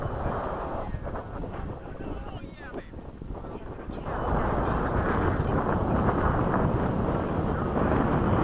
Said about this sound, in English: you got the afterburner